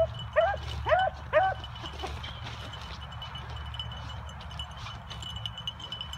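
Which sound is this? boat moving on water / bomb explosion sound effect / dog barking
dog barking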